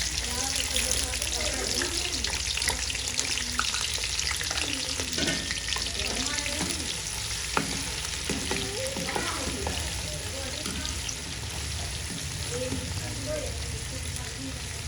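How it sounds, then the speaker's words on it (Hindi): Onions sizzle in hot ghee in a home kitchen pan, a continuous crackling fry with occasional stirring clinks and scrapes, steady and close. Soft talk is faintly present in the background. "ये देखिए मेरा घी गर्म हो चुका है। अभी मैं इसमें प्याज ऐड कर रही हूँ।"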